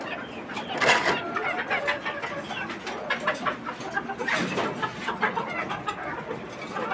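A white-and-black desi hen laying an egg gives repeated clucks close by, in uneven bursts over a steady background of other birds murmuring.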